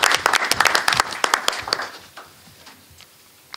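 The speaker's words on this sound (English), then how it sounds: "So if you don't mind, give them a round of applause." Applause from a school audience greeting two assistant principals, loud, dense clapping that thins out and fades within a few seconds.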